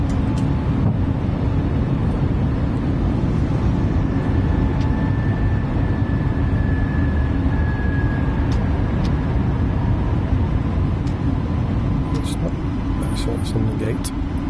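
An Airbus A320 climbing out after takeoff from Stuttgart, heard as a loud, steady engine roar with a faint rising whine, continuous for the whole stretch with occasional light clicks.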